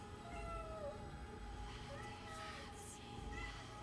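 Cat meowing in the video game 1666 Amsterdam, a few drawn-out tonal meows over a low, murky ambient background, fairly faint and close.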